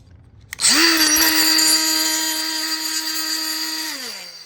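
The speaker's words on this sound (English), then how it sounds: "there's this little tab that you have to grind off to get the bracket to slide all the way in" A multi-tool grinding off a small bracket tab on a Harley-Davidson, a sharp high-pitched whine that starts abruptly, holds steady and close for about three seconds, then winds down.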